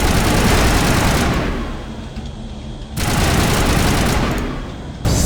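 Sustained barrage of automatic gunfire in the sci-fi shooter Mass Effect, loud and dense, easing briefly before surging again, with no talk over it.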